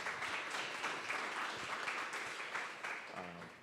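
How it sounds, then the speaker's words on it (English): An audience gives steady, moderately loud applause after a talk at a coffee-and-code meetup, with a voice starting to speak as the clapping fades. "A round of applause,"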